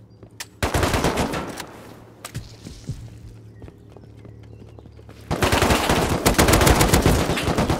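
AK rifle fire in the online survival game Rust, loud rapid bursts of automatic shots up close, a quieter stretch with a few scattered shots and steps, then another sustained volley, no talking.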